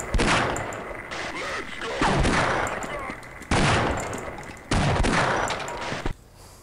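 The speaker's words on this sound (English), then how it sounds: "Do you have the cowboy gun with bullets in it? I'll kill him in one shot." Revolver gunshots in the video game Half-Life ring out as several loud, sharp blasts spaced a second or so apart, each trailing into a short echoing decay. Faint speech can be heard in between.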